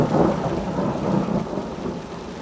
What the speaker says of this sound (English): but the sound of the thunder.